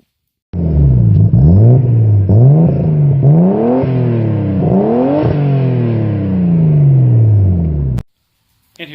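An R32 with its stock exhaust, before an Autobahn test pipe is fitted, revs repeatedly at close range in a series of rising and falling engine sweeps, loud and steady, then cuts off abruptly near the end.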